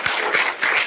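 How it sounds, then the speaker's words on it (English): A round of applause for a speaker at a Shrimad Bhagavat Maha Puran Saptaha session, brief dense clapping from a crowd, steady and fairly close. "I think Vyasji needs another huge round of applause"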